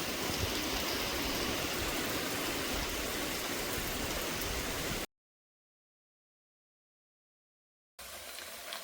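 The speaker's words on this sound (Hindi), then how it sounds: "बाकी मार्केट साइड को भी बहुत तेज़ बारिश हो रही है" Heavy rain pours down in a mountain area, a dense, loud, unbroken hiss of downpour that cuts out abruptly partway through and then returns.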